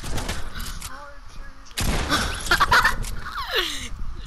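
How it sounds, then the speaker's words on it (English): Video game shotgun blasts boom in a rapid burst of loud gunfire with mechanical clicks, while players shout and talk over the shots. "Why you grab a shotgun, bro?"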